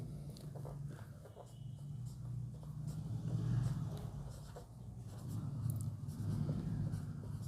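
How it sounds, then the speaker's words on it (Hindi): A topic name being written on a board during a Class 12 integrals lesson: faint scratchy strokes over a steady low room hum, with no talking. "मैं टॉपिक का नाम लिख देता हूँ सबसे पहले"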